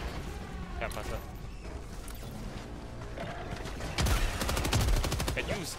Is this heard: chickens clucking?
no